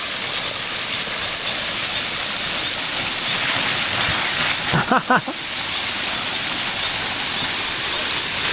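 Waterfall in Colombia, a steady close roar of pouring water throughout, with a brief voice rising over it near the middle.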